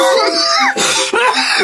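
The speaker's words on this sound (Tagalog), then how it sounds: "Ubo pa." Coughing from a person in a comedy skit, a few harsh bursts broken by brief pauses, close and loud, mixed with laughter-like voicing.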